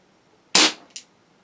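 A Webley MkVI CO2-powered .177 air pistol with a rifled barrel fires a pellet: one sharp, loud crack with a quick hiss, then a brief fainter snap moments later, with no talking.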